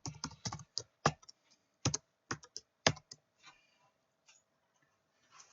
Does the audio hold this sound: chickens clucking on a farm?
no